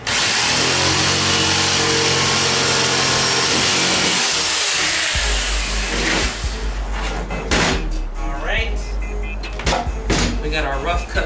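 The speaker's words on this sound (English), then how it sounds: "I'm gonna go ahead and use the jigsaw" A jigsaw saws through wood for a console build with a loud, continuous buzzing whine that drops off after about five seconds, followed by knocks, clatter and someone talking.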